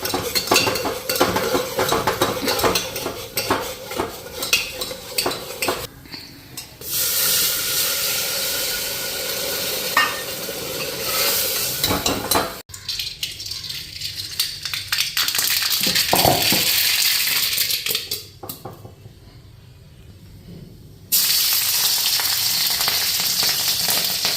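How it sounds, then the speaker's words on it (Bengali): Dal frying in a pan with cumin powder gives a dense, continuous sizzle with utensil scraping and clatter, shifting in loudness over a long stretch, with brief quieter gaps. "এইদিকে এই যে দেখো ডালটা একটু ভাজা বসায় দিছি আর একটু স্লাইড জিরার গুঁড়া দিতেছি।"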